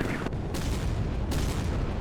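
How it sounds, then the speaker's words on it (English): Secondary explosions rumble after a successful hit on a ship in the naval warfare game Sea Power, a dense, continuous roar of booms with sharp blasts near the start and midway, loud and alone. "Oh, nice secondary explosions there. That was a good hit."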